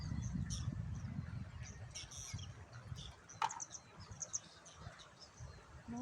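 Scattered bird chirps and squawks sound faintly from several directions along a riverside over a low, steady background hum.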